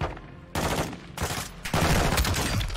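Gunfire from the video game Call of Duty MW2 rings out in loud, dense bursts, with sharp rapid volleys breaking in around half a second and again near the end, continuous and close.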